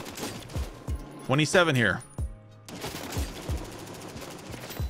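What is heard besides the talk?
gunfire from Warzone video game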